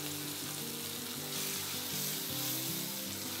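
Chopped tomatoes with ginger-garlic paste sizzling in a hot pan, a steady loud crackling hiss with a low wavering hum underneath, close and continuous, no voices.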